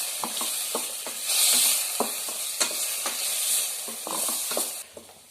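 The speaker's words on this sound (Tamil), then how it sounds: "இது எல்லாத்தையும் ஒன்றா வதக்கிக்கலாம்" Chopped onion, tomato, ginger and garlic sauté together in a pan, sizzling steadily while a spoon stirs and scrapes in irregular taps and swishes, close up, with no talk.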